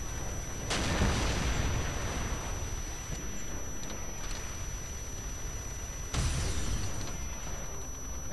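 Loud booming gunshots ring out in a zombie mode of a Call of Duty style shooter game, two heavy blasts several seconds apart over a constant noisy game din.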